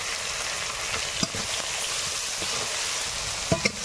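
Black cumin, green chilli and tomato fry in hot oil with a steady, close sizzle and crackle, broken by a few sharp spatters and stirring taps near the end; no voices.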